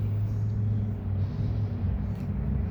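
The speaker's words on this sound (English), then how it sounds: "I know the cars in the background" A low, continuous rumble of road traffic, steady and somewhat distant, with no distinct passes standing out.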